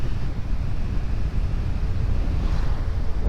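Wind rushes over the microphone during a fast motorcycle ride on a smooth road toward Bicol, a steady, loud broadband roar with no pauses and no talking.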